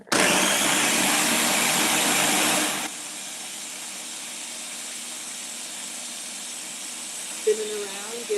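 A blender whirs loudly as it purées banana with eggs and baking powder, then after about three seconds the roar drops to a quieter running hum.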